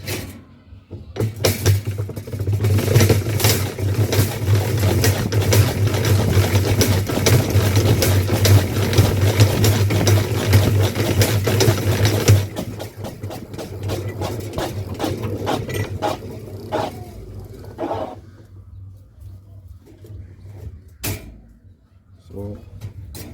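A honey extractor spins beehive frames, a steady loud mechanical drone and rattle for about twelve seconds, then slows and stops, followed by handling clunks; someone talks over it.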